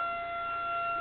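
A tornado siren sounds as a steady sustained tone, distant but even and continuous, with no voices over it.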